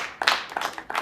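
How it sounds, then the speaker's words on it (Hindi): Studio audience claps in short uneven bursts for an arriving poet, a few sharp hand claps close by, brief and sparse rather than a full ovation. "जोरदार तालियों से अवनीश त्रिपाठी को आमंत्रित करिए"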